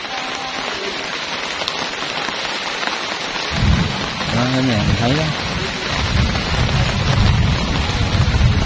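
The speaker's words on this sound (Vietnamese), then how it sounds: "Trời mưa chuyển tới ầm đùm luôn rồi" Heavy rain pours steadily and loudly, with a low rumbling undertone, while a person speaks briefly over the downpour.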